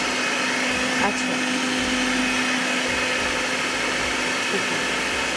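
An electric blender runs at a steady, loud whir the whole time, mixing qeema with yogurt, salt and crushed red chilies in a home kitchen, with no break in the motor's drone.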